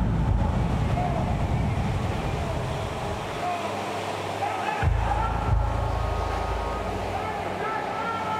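Rowers pulling boats across the sea from Apiao Cahuach during a religious festival, with continuous wave wash and wind noise across the whole stretch, a steady roar with low rumbles and occasional splashes.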